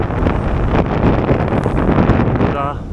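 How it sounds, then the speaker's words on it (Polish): Strong wind buffets the microphone during a bike ride through a forest area in Poland, a loud constant rumbling roar filling the whole clip without a break. "Nie wiem, czy się będzie słychać, bo naprawdę wieje"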